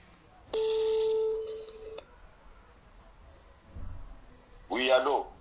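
A phone call is dialed: a steady electronic tone holds for about a second and a half, then a short burst of ringing or dialing tones follows, fairly faint.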